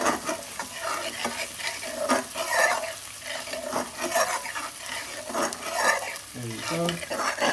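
Garlic fries in ghee over medium-high heat, a soft continuous sizzle with stirring and scraping of a utensil in the pan, and a brief spoken remark near the end.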